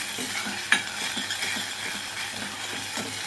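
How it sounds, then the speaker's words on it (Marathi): Tomato puree with salt is stirred in a pan, making a soft sizzle with a rhythmic scrape of the spoon about twice a second and one sharper clink, close and steady with no talking. "आता मीठ घातल्यानंतर मिक्स करून घ्यायचं आहे व्यवस्थित"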